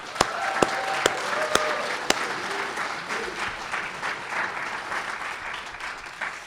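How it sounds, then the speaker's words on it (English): An audience at a convention applauds the committee, opening with a few sharp, close individual claps before settling into a sustained wash of clapping with faint crowd murmur. "Let's give the committee an applause."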